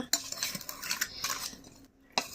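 A spoon mixes amla (Indian gooseberry) pickle in a bowl, with close, irregular clinks and scrapes of metal against the dish, repeated in quick strokes.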